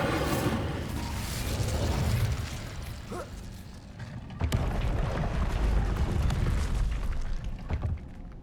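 Incendio fire spell cast in the video game Hogwarts Legacy, a dense rumbling whoosh and burst that swells, dips and surges again, holding strong and continuous under the game's other sounds.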